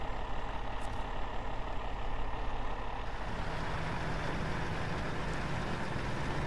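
A heavy iX 3880 wrecker truck in SnowRunner drives with a steady, loud, deep engine rumble and grinding drivetrain noise throughout, hauling a ramped flatbed trailer loaded with two concrete slabs.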